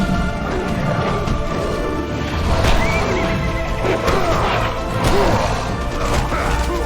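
A horse in the video game Castlevania: Lords of Shadow neighs and whinnies loudly over clattering hooves and crashing impacts in a busy game soundtrack.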